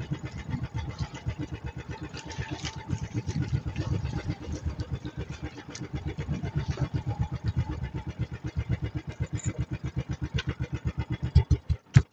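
A boat engine on an island trip cranks and catches, its fast, steady mechanical chugging pulsing loudly and close throughout, with a few heavier thumps at the end.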